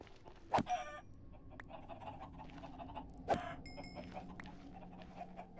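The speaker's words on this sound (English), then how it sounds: "we need to kill all the chickens as we find them" Chickens clucking in a Minecraft-style mining game, with two short, loud squawks about three seconds apart over a steady low background hum and faint scattered clicks.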